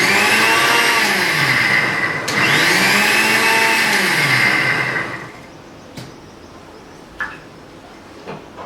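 A mixer grinder whirs loudly, blending raw coriander chutney seasoned with rock salt, then cuts off after about five seconds, leaving a few faint knocks and clicks.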